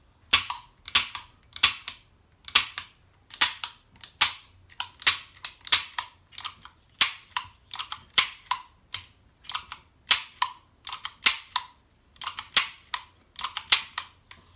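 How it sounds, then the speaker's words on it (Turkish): Tisaş Zigana Sport pistol dry-fired repeatedly, a close series of sharp, light mechanical trigger and hammer clicks in a steady rhythm, often doubled, with no one talking. "şu tetiği çalıştırırken sesi dinleyin arkadaşlar"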